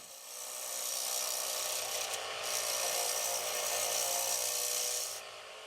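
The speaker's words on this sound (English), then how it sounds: "Rounding over the rim is easy with the round cutter on the Easy Finisher." A steady rasping scrape of a round cutter rounding over the rim of a spinning wooden bowl on a lathe, continuous and close, fading out at the end.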